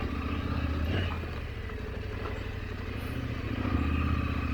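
An adventure motorcycle rides a beginner trail over loose rock, its mid-pitched engine droning steadily and close while faint clatter from the rough ground runs underneath, with no talking.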